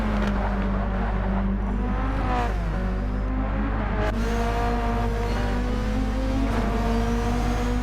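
Volkswagen Bug Cup race car in Gran Turismo 7, an hour-long endurance race, heard from onboard with a steady loud engine drone and quick short-shifted gear changes, revs dipping and climbing again several times.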